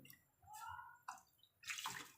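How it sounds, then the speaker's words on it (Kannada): Water poured into a pot of boiling radish rasam (thin saaru) on the stove, heard as a few short splashing gushes that build to a louder pour near the end, with no voices. "ಬಂದಮೇಲೆ ತಿರುಗಿ ನೀರು ಹಾಕೋಬೇಕು ಬೇಯಿಸಿರ್ತೀವಲ್ಲ ಅದೇ ನೀರು ಹಾಕೋಬೇಕು"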